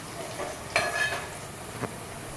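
Onions frying in a pan with salt for paneer dum biryani, a steady soft sizzle throughout with a couple of brief louder stirring scrapes, close and alone with no voices.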